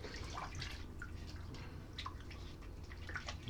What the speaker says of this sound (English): Just wash my hands first.